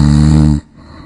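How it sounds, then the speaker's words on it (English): A sleeping person lets out one loud, close, deep snore lasting about half a second, which then cuts off into near silence. "Did you know snoring can reach 93 decibels?"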